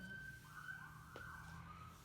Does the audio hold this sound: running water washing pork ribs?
no